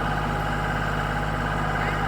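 A tractor's diesel engine runs steadily at idle with a rotary pump attached, a constant low droning rumble with no breaks.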